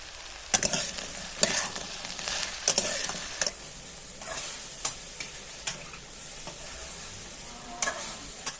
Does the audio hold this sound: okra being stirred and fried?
yes